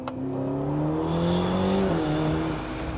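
A 2018 Ferrari GTC4 Lusso T engine drones loudly from inside the car, rising steadily in pitch under acceleration, with a brief dip at a gear change before it climbs again.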